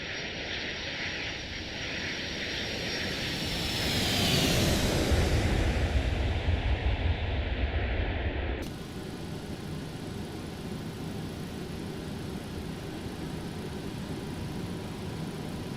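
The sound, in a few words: American Airlines MD-82 jet engines at throttle-up during go-around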